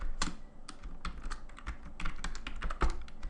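Code being typed on a computer keyboard in a programming session, a steady run of quick, close clicky keystrokes with short pauses, heard alone without any voice.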